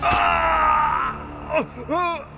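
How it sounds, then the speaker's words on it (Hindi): A servant screams in pain in a horror story sound effect, one long strained cry followed by two shorter anguished yells, loud and close. "तभी उनके पीछे एक सेवक दर्द से चिल्लाया।"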